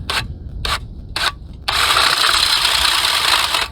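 Power-driven hand auger run on its high setting: a few short bursts, then a loud, continuous high-speed grinding whir that holds steady to the end.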